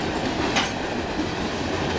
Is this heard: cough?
no